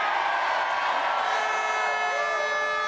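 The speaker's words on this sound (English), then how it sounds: "And I want an even bigger cheer for South Africa." A large outdoor crowd at a Palestine solidarity rally cheers and whoops for South Africa, a loud, sustained roar of many voices holding steady throughout.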